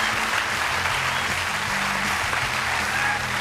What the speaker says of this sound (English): Give him a big round of applause from the line.